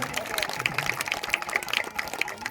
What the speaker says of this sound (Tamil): கைதட்டுங்க, நல்லா கைதட்டுங்க